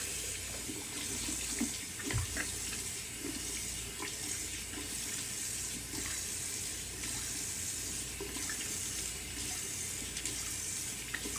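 Cold water running steadily from a tap into a sink for rinsing after a wet shave, a continuous close splashing hiss with a few small splashes and no talk.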